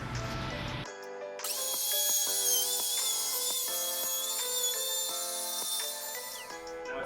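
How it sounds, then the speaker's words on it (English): A router cuts into plywood with a loud, high, steady whine that holds for several seconds, broken by brief bites and dips as the bit works deeper. "Every time I turn it off, I go down a little deeper on the router."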